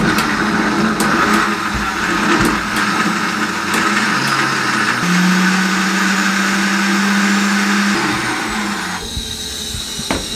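A mixer grinder grinding black pepper and cumin, a loud continuous motor whir with rattling spice, running steadily in short pulses throughout.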